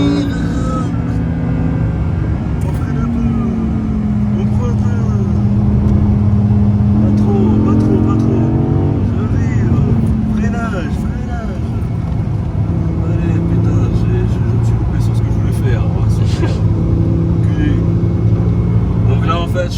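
A car on the Magny-Cours circuit warming its tyres, a loud, continuous engine drone from inside with rising and falling revs, and people talking over it throughout.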